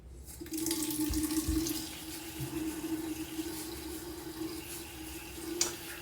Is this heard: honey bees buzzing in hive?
no